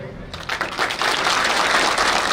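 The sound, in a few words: audience applause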